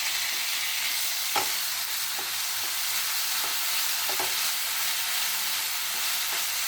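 Onions and tomatoes sauté in a pan with a steady, close sizzle, broken by occasional spoon scrapes and taps against the pan, with no voices.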